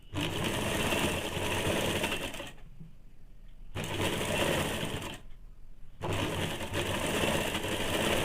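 A sewing machine stitches the side seam of a Bombay cut blouse in three loud, steady runs of whirring stitching, separated by short pauses, close up with no talk.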